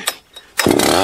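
A chainsaw engine is pulled over on choke: two faint cranking pulls, then the motor catches and runs loud and steady to the end, with no talking.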